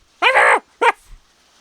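A person's voice imitates a dog's bark, giving two short, loud woofs close to the mic, a longer one then a clipped one, followed by silence.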